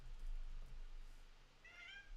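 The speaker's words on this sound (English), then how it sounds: "Oh, hi kitty." A cat gives a single short meow near the end, faint and alone against a quiet background hum.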